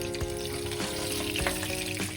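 Hilsa fish pieces fry lightly in a pan of oil, giving a loud, continuous dense sizzle with small crackling pops throughout, close to the cooking.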